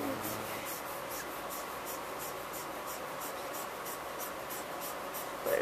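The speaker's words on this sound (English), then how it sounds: "So I'm just coloring." Coloring on paper while drawing a manga circus girl's dress: steady, rhythmic scratchy strokes repeat close up at an even pace, with a faint background hiss and no talk.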